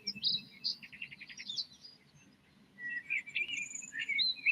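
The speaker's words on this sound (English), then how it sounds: "God, look at all the birds flying around." Several birds chirp and tweet in short high bursts outdoors during a street scene, moderately near, with a steady low murmur of background noise underneath and a brief lull midway.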